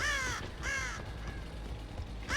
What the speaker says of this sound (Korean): 여기 까마귀가 있으니까 여긴 안 지나갈 거고